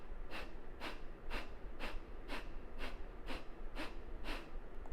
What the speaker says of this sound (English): let us do 10 rounds of fire breath